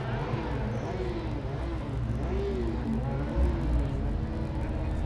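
Formula Student race car on an autocross track at FSG 2012, a steady engine drone and whir under constant crowd and ambient noise, with a slight swell near the end; a voice talks over it.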